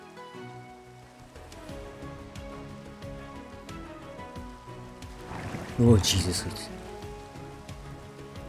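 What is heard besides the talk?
rain in the video game Minecraft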